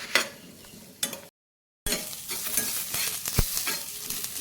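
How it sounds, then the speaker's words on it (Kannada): Onions sizzle and fry in an oil-filled pan while a spoon stirs and scrapes them, a steady close crackle broken by a brief silent gap, with clinks of utensil on metal. "ಈರುಳ್ಳಿ ಫ್ರೈ ಮಾಡಲು ಬಾಕಿ ಆಯಿತು. ಇದನ್ನು ಫ್ರೈ ಮಾಡ್ತಾ ಇದ್ದೇನೆ."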